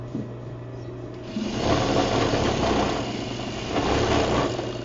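A sewing machine runs continuously while edge stitching a pocket facing on pants, a close, steady motor whir that picks up speed after the first second and holds through the end.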